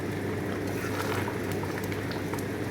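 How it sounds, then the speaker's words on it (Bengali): Chicken curry simmers in a pan after hot water is added, giving a soft continuous bubbling and low boiling hiss, fairly quiet and steady with no talking. "জল, গরম জল দিয়ে দেওয়া হয়েছে, ফুটছে।"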